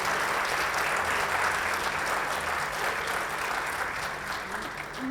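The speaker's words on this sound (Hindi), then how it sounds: "क्या बात है, तालियां हर वक्त। तालियां।" An audience applauds continuously at a televised event, a broad, even wash of many hands clapping that holds steady and fades slightly near the end.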